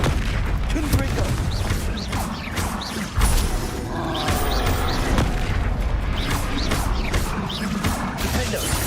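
Repeated booming blasts of the Confringo explosive spell in the video game Hogwarts Legacy, heavy impacts and crashes over a dense battle din, with a voice talking throughout.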